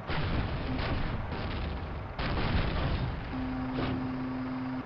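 Tank cannon fire booms out in Call of Duty, two heavy blasts a couple of seconds apart over a constant rumble of battle noise, followed by a sustained tone.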